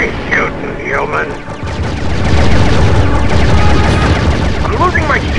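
Turret gunfire in a Star Wars speeder battle video game, a dense barrage of rapid blasts and explosions that swells and stays loud, with laser-like zaps and a voice speaking over the start.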